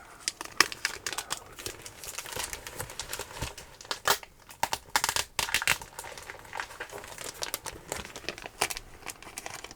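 Adhesive tape is peeled and torn from a comic book during a quiet page-handling session. Dense crinkling and ripping crackles come up close and loud in irregular bursts throughout, with no talk.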